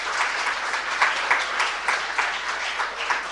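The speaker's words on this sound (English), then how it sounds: "Let's clap very, very loudly for him too." An audience in a conference session room claps steadily, a dense patter of many hands applauding together, moderately loud and unbroken throughout.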